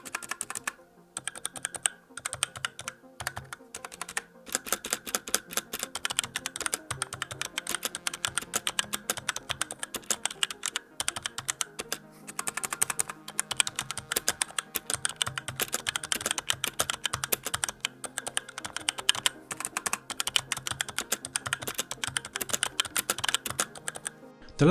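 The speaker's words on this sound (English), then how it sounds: "As far as typing is concerned, although there are some inconsistencies with how loud each key is, I feel for a mechanical keyboard it's fairly quiet" Steady fast typing on a fairly quiet Razer mechanical keyboard with slightly uneven key loudness, a close, continuous clatter of keystrokes running throughout.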